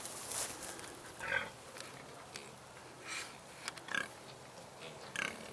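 A boar lying in weeds behind the sows, giving faint grunts and sniffs against a steady outdoor hiss, with a few louder snorts spaced through.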